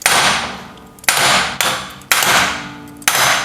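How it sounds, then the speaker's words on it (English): Four sharp metal hammer strikes on a tie rod end of a 1939 Hudson, each a loud bright clang that rings briefly before the next blow, spaced roughly half a second apart and heard up close with no talk. "Let's see if the old hammer trick will do it for us."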